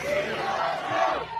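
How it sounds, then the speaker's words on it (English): Large rally crowd cheering and shouting as President Trump comes on stage, a loud, dense roar of many voices, sustained and close with rising and falling yells. "They're cheering for President Trump when he comes on stage."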